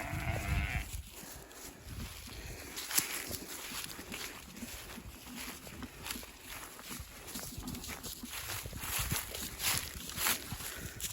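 A flock of sheep bleats repeatedly for dinner on a spring farm, overlapping calls near and far with soft footsteps and shuffling in between.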